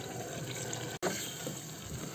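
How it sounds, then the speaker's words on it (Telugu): Water is poured into a cooking pan holding fried spice paste and oil for an aloo masala curry, a continuous close rushing splash with one brief break. "వాటర్ పోసుకున్నాం"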